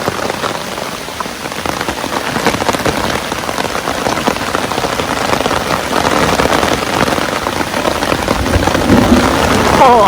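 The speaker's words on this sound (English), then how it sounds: "I'm out here in a thunderstorm, guys" Heavy thunderstorm rain drumming on a Dragoon Ridgeback bivy-style tent, a dense loud patter that builds slightly over time, heard from inside without any voices.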